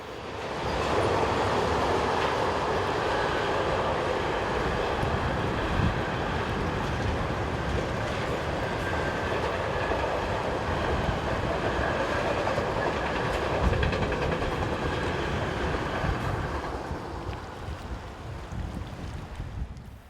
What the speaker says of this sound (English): as we see Class 186 Electric number 302 heading a southbound working